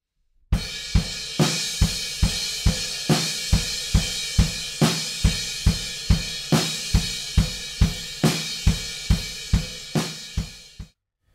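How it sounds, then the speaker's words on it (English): Drum kit playing a steady groove of eighth notes on the crash cymbal with snare on beats two and four, close and loud, the rhythm running evenly for about ten seconds before stopping, with no talking. "It's all 8th notes, and the snare drum's playing 2 and 4,"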